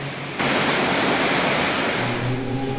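A natural waterfall along the Kailash Mansarovar trekking route bursts in abruptly as a loud, steady, close roar of rushing water that holds unbroken, with a faint low hum joining near the end.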